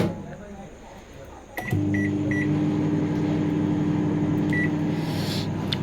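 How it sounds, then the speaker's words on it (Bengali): A microwave oven heating food: a few short button beeps, then a steady, loud electric hum with a fan whir that runs on, with another beep partway through. "মাইক্রো ওভেনে গরম করবো"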